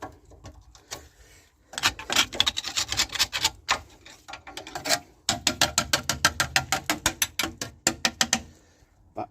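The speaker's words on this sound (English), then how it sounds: "Scrape off the loose rust." Loose rust is scraped off the rear brake back plate of a Skoda Fabia in rapid, repeated rasping strokes that start after a quiet opening, pause briefly midway, then resume in a steady rhythm, close and fairly loud, with no talking.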